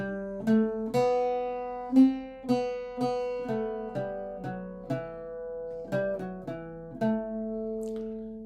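Single plucked Irish bouzouki notes form an unhurried tune from God Rest Ye Merry Gentlemen, bright attacks decaying steadily, played alone without any talking.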